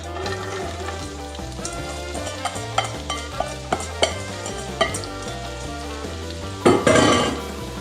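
Onion frying in extra virgin olive oil in a 14-inch non-stick pan, a soft steady sizzle under a loud backing music track, with a few utensil clicks and a louder burst of sizzle near the end.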